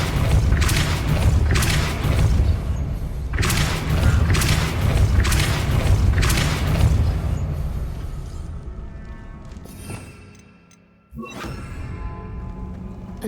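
A Depulso force spell in Hogwarts Legacy: a string of heavy booming thumps and rumbling mechanical grinding that fades into quiet, then a sudden whooshing thud and renewed rumble. No one speaks.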